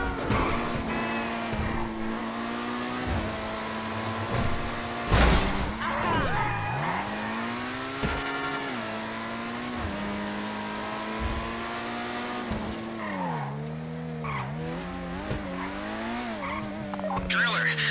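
A car engine revving and shifting while driving in the video game GTA V Online, steady and close with rising and falling pitch, tire squeals and short thuds, voices talking over it at times.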